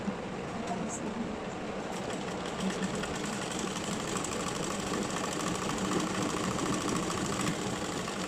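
A sewing machine stitches black cloth, a continuous, fast mechanical whirr and rattle that holds steadily at close range.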